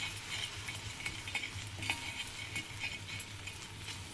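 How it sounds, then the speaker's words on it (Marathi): The back of a spoon rubs melted alum across a hot griddle, making steady rhythmic scraping and stirring strokes over a faint sizzle, close and fairly quiet. "आपण असं चांगलं चमच्याच्या मागच्या बाजूनी तव्यावरती असं चांगलं घासून घेतो आहे"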